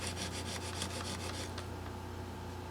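A worn file rasps on a guitar in quick, even back-and-forth strokes during string rattle and low action work. The strokes are close and fairly faint over a low hum, then stop after about a second and a half.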